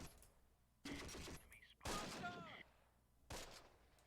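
Gunfire from units in the Close Combat: Panthers in the Fog wartime strategy game, three broadband bursts of shots separated by short gaps, with a sharp tonal ring after the middle one and people talking in between.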